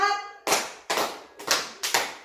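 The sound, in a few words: hand clapping in counted beats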